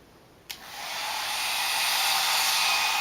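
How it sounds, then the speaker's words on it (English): A Revlon hair dryer clicks on, then a close, steady airy whoosh builds and holds at full strength, with no talk. "You got yourself a hair dryer ready to go."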